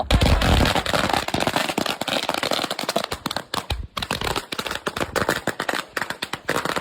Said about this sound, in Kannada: ನಾವ್ ಒಂಥರ ಸರ ಪಟಾಕಿ ಇದ್ದಂಗೆ, ಹಚ್ಚಿದ್ರೆ ಸಾಕು ಪಟಾಪಟ್ ಗೊತ್ತಲ್ಲ ಸೌಂಡ್